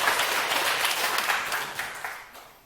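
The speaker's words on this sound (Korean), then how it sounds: "우리 한 번 더 박수 부탁드립니다" Audience applause during a Korean lecture class, sustained clapping with individual claps audible that gradually tapers off toward the end.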